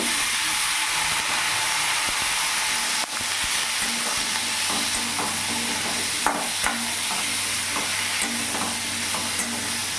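Diced papaya and potato fry in a pan of oil tempered with black cumin seeds. A steady, loud sizzle and hiss continues throughout, with occasional clicks of stirring and no talking.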